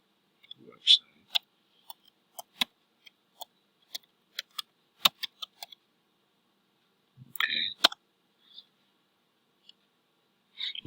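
Keys on a keyboard are pressed one at a time in an irregular, sparse run of crisp clicks as a web address is typed into a browser, heard close and quiet in an otherwise silent room.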